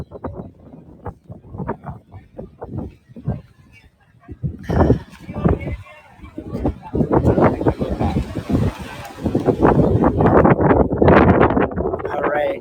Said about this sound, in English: So it's getting a little windy again.